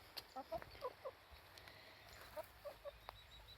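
A few soft, short clucks from small black hens come in scattered bursts, fairly faint against a quiet outdoor background.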